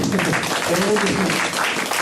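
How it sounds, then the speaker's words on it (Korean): Clapping from a seated audience closing a public discussion forum, a dense, continuous wash of applause lasting the whole stretch, with a few voices mixed in. "다 같이 한번 박수 한번 예."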